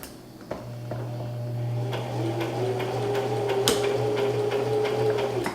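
A sewing machine runs a few backward lock stitches on a fabric scrunchie, giving a steady low motor hum with a faint rising whine and light ticking clicks, close and alone.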